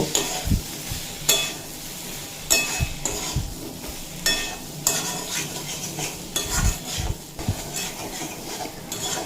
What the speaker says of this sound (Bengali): ভেজে রাখা আলু আর কাঁঠাল বিচি এড করে দেব দিয়ে মশলার সঙ্গে কিছুক্ষণ কষিয়ে নেব